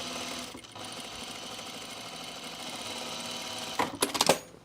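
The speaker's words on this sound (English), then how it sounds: "I'm just sewing and enclosing my raw edge here" A sewing machine runs steadily for about four seconds, enclosing a raw edge on a seam of a pair of pants, then stops and a few quick clicks and handling noises follow.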